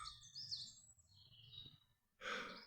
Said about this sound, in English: I can hear the birds and stuff